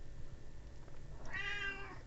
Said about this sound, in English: And there goes my cat.